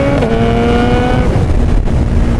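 A 2025 Suzuki Hayabusa motorcycle engine revved as the throttle is twisted, a loud close-up steady roar holding a high pitch, then settling lower, with no voices over it.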